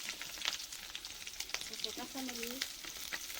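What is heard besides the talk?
whole cumin, onion, green chili frying in hot oil in wok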